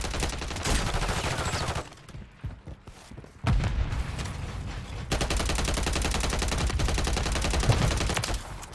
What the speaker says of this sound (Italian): Sparano.